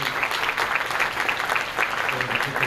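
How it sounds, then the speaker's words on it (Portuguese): Applause from an audience at an evening graduation ceremony, a steady crowd clapping texture that holds at an even level throughout, with no voices standing out above it. "A ele nós pedimos uma salva de palmas"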